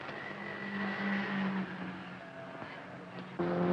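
Mini race cars lapping at the 1967 Bathurst Gallaher 500, engines droning steadily at moderate distance with a sustained harmonic whine, then a sharper, nearer engine note rising at the end.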